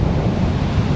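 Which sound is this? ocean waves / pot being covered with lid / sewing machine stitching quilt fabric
ocean waves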